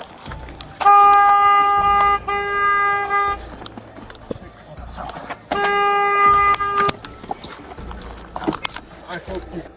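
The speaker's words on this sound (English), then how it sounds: "the man started honking nonstop to alert anyone in the close vicinity" Car horn blaring in long sustained blasts from inside a patrol car, two extended honks broken by a short gap, loud and close, with scuffling and background noise between.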